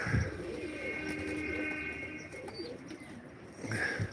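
At a pigeon auction, a pigeon coos softly and close by, a low burbling call over a steady background hum.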